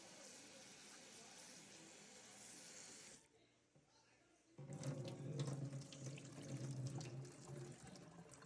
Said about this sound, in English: make sure that you wash your broccoli